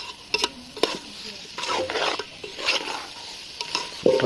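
Mutton curry cooked with mango sizzles in a pan while a spoon stirs it repeatedly. The scraping and bubbling come close and fairly loud, with no talking.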